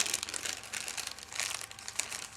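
A small plastic Ziploc bag holding thick and thin cork neoprene washers crinkles softly and rapidly as it is opened, with quiet bursts of rustling.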